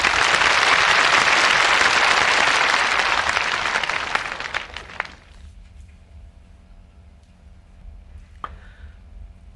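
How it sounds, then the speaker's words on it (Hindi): Congregation at an evening satsang bursts into loud, dense clapping that fades out after about five seconds, leaving a quiet hall with a few isolated claps and soft background hum. "ताली बजाओ,"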